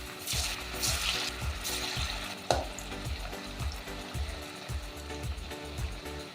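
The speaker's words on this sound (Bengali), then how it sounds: "এবার এই ধোকাগুলো পিস পিস করে কেটে ভেজে নেব।" Plantain dhoka pieces frying in hot white oil in a kadai, a steady bubbling sizzle with regular stirring scrapes and one sharp clink, close and continuous with no talk.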